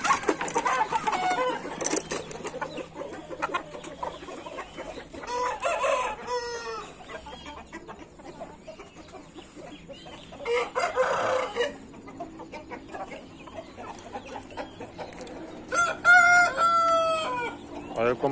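An Indian game rooster crows in several loud, drawn-out bursts on a hot day, with softer clucking and rustling farmyard sounds between the calls.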